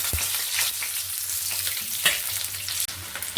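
Potatoes fry in hot mustard oil in a wok with a steady, close bright sizzle and crackle, broken by a few soft stirring knocks.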